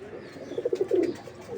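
A red Muslodom Giribaz pigeon, one of a flying pair, gives a close, throaty coo of several quick pulsing notes in the middle, with quiet room noise before and after.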